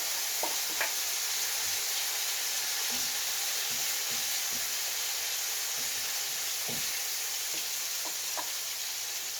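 Broccoli fritter mixture fries in a hot pan with a steady, even sizzle and hiss, broken by a few faint scrapes and small pops, with no voices.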